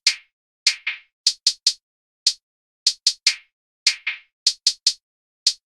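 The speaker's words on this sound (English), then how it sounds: "Next thing we got this hi-hat pattern that sounds like this." Hi-hat pattern in a dark orchestral trap-style beat: crisp, bright closed-hat ticks in an uneven, syncopated rhythm of about eighteen hits, close and dry with no voices.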